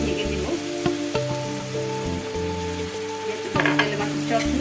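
Small bele fish cooking as a charchari in oil with tomato gives a steady, close sizzle and crackle throughout, with faint stirring clinks and no voices.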